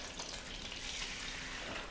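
Tarshana roasting in a pan in a Baghdad home kitchen gives a steady, close, broadband sizzle and crackle that runs alone without a pause.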